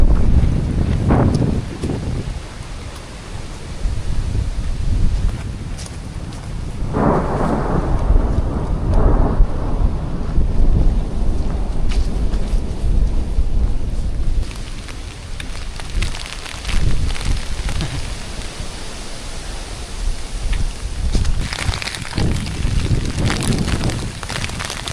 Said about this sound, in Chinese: 还掺杂着冰雹，打在手上有点疼啊